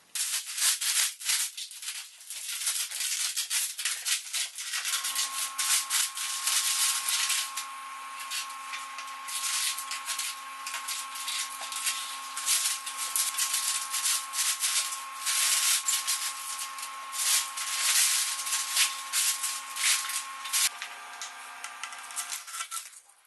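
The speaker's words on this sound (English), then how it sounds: "I'm gonna go ahead and just peel everything off right now to see what it looks like" Plasti Dip rubber coating is peeled off a Suzuki SV650S motorcycle, giving a continuous close raspy tearing and rubbing sound with a faint steady tone running underneath.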